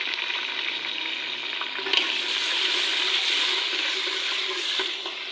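Water added to a pan of potato, fenugreek and spinach bhurji cooking with onion, ginger, garlic, tomato and green chilli: a steady hissing sizzle and splash with a faint clink, close and continuous, no speech.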